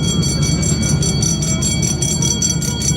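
A small amusement park train ride runs close by at a family park, wheels clacking in a steady rhythm with a ringing, bell-like tone over a continuous rumble, and no voices.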